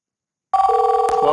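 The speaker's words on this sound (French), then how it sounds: "à la troisième sonnerie, l'appel est renvoyé ici." Telephone ringtone on a phone system set up for call forwarding, starting after silence and ringing steadily at close range with a bright repeating electronic tone, with no voices.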